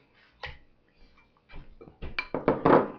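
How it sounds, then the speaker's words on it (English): Chopped yellow squash, fresh green beans and diced tomatoes dropping into a bowl, a few soft thuds and clinks building to a cluster of louder clattering knocks near the end, with no talking. "I'm going to add our yellow squash, fresh green beans, diced tomatoes"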